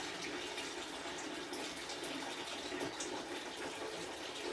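Water is siphoned out of a home aquarium during cleaning, with a steady, soft, continuous gushing trickle, close by and with no voices.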